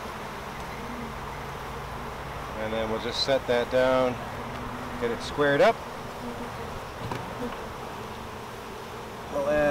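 Honey bees swarming around an open hive as a queen excluder and supers go on, a dense steady buzzing throughout, with someone talking briefly over it and clunks of boxes being set down.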